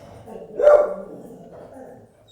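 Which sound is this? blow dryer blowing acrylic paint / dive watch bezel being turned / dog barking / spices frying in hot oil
dog barking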